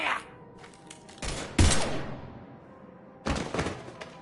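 Gunfire in the Mass Effect 3 video game: a few loud broadband bursts and heavy thuds arrive in separate volleys, with quieter stretches between them.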